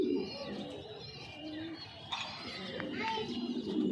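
A male pigeon coos low and rolling among other pigeons, with children's voices and someone talking close over the birds.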